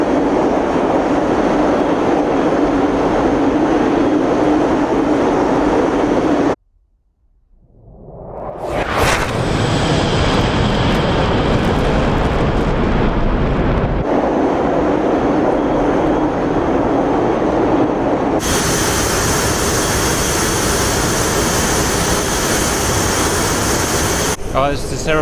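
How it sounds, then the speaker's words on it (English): Jet aircraft engine in the DCS World flight simulator, a loud steady roar with a sudden dropout then a rising spool-up whine, shifting tone as the view changes; engine noise fills the whole span. "Oh, this aeroplane makes me feel like Eric Cantona"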